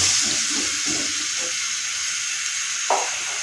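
Water is poured into a pan of potatoes cooking for an aloo baingan sabzi, making a steady, close hiss and sizzle that runs unbroken for a few seconds, with a brief splash near the end.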